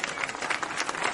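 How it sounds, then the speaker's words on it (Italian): A live comedy show audience in Sarissola claps for the sound technicians in a brief, dense burst of applause, close and lively, over about a second. "un applauso ai fonici"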